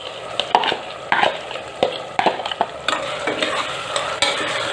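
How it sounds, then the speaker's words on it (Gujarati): Soaked moong dal and tomato sautéing in oil in a pan over a medium flame, heard as a steady close sizzle broken by repeated scraping stirs, about one every second. "તેને પણ આપણે 1 મિનિટ માટે સાતળીશું તેલમાં"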